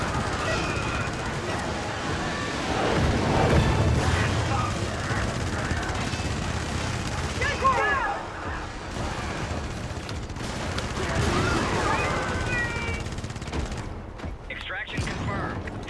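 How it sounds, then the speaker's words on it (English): Cannon fire and explosions from a video game battle roar in heavy, overlapping bursts, with booming impacts and crackling gunfire filling the mix while voices talk underneath. "Oh, that cannon was close."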